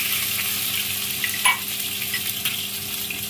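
Whole cumin, panch phoron, dried chilli, bay leaf and ginger sizzling in hot oil, a steady loud crackling sizzle with a brief stirring clatter partway through and a faint hum beneath.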